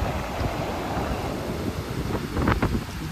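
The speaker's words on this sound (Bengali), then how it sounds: "এই দেখো ঢেউগুলো কত বড় বড় ঢেউ" Large sea waves wash ashore at Shankarpur beach, a steady roar of surf with wind noise, swelling slightly louder near the end; no voices.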